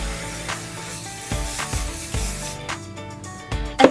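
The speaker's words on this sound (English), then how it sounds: "And then I also like to spray it all with the Kenra Working Spray." Kenra Working Spray hairspray misted onto hair, several short close hissing bursts over background music.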